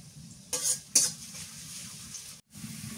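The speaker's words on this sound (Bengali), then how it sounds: "পেঁয়াজ ভাজা হয়ে গেছে" Onions frying in a pan for a snakehead fish and sweet pumpkin curry give a steady low sizzle, broken by two brief scraping bursts as they are stirred, with no talk.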